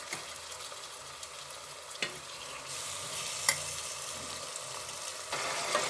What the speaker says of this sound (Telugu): కొంచెం మగ్గాక ఆల్రెడీ కలిపి పెట్టుకున్న చికెన్ వేసేసుకోవడమే.